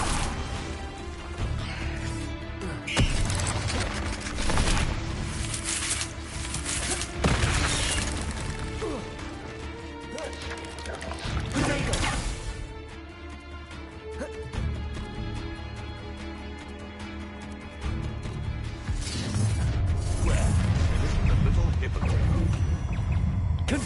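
Confringo explosive spell blasts in Hogwarts Legacy combat, repeated loud crashes and booms with smashing debris amid dense game sound, with voices shouting in the fight.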